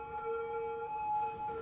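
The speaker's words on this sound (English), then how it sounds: "Oh my god, the sirens. There's so many police cars." Police car sirens wail in a busy city within the game Cities Skylines, steady tonal sirens held at moderate level across the short stretch, with no voices over them.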